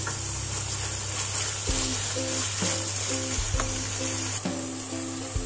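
Chopped peppers and tomatoes sizzle in a hot pan for a Turkish potato oturtma dish, a steady close frying hiss with intermittent scraping stirs and clinks, no talking.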